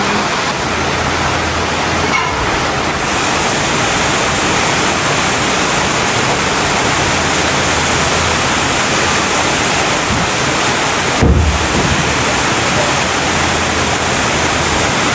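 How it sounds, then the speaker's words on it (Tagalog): Heavy rain pours down in a dense, continuous roar, loud and unbroken throughout. "Lakas ng ulan,"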